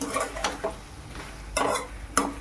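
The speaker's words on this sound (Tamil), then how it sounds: "இப்போ இது நல்லா வறுத்துக்கணும்" Chicken curry masala of tomato and onion fried and stirred in a pan, heard as scraping spoon strokes at intervals over a steady low sizzle, close and fairly loud.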